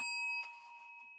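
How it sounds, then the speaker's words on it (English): A small hand bell gives a single bright ding, close and clear, with a sustained ringing tone that fades slowly over about a second. "Oh, look what I got. I got a bell."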